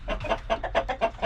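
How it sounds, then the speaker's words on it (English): A hen clucks in a chicken coop, a quick run of about seven close, rhythmic clucks in steady succession, heard alone without talking. "I'm going to put this in so Johnny can get that hen up on there"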